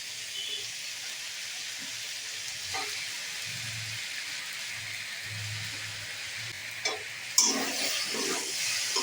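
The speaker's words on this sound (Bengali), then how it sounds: "তাই এবার আমি ধুয়ে রাখা লোটে মাছগুলো দিয়ে দেবো।" Bombay duck fish sizzling in a pan with fried potato and eggplant: a steady, fairly soft hiss of frying runs throughout, with a few small clatters and a sharper knock near the end.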